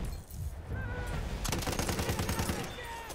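Rapid bursts of BAR automatic rifle fire crackle in Battlefield 1 multiplayer, a loud stuttering volley in the second half over game noise and a talking voice.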